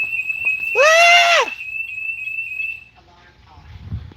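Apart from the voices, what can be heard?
alarm going off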